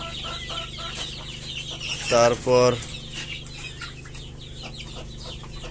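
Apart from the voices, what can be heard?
rooster and chickens clucking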